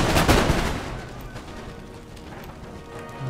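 A volley of musket fire from fusiliers in the strategy game Empire Total War, set during a French siege of Athens: a loud burst of overlapping shots at the start that decays into a rumbling battle din.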